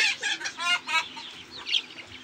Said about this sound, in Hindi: बतखों का, बड़ी बतखों का जोड़ा लाए हैं।